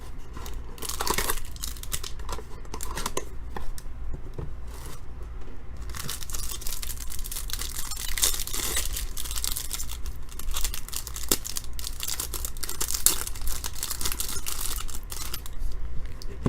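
Cardboard and plastic packaging on a 2013 Panini Prominence football hobby box crinkling and tearing nonstop, close and loud, with dense rustling and ripping that keeps up throughout without any talk.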